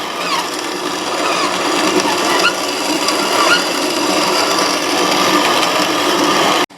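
A grain mill grinds stored corn in a steady, dense mechanical whir with a gritty crunching texture, continuous and fairly loud for the whole stretch, with no talking over it.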